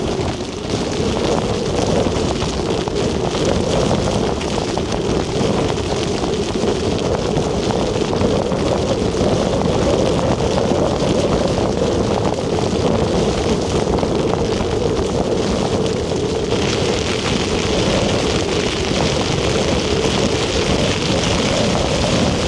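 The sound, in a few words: strong gusty wind, about 40 mph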